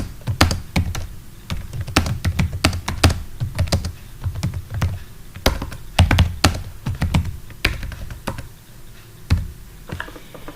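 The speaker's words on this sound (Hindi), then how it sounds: "हम यहाँ पर कोई टेक्स्ट टाइप करते हैं, कोई भी टेक्स्ट टाइप कर सकते हैं।" Text is typed on a computer keyboard for MS Word in a quiet room, with close, irregular keystroke clicks and heavier thumps in quick bursts and short pauses, and no talking.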